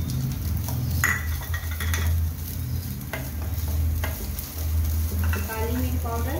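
Chicken pieces with chili flakes sizzling and frying in a pan, stirred and mixed with scraping utensil strokes over a steady continuous hiss, close and fairly loud.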